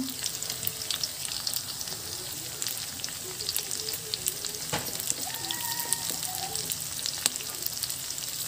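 Garlic frying in a pan for Filipino binagoongan, a steady close sizzle with crackling pops and occasional light stirring scrapes throughout, no voices.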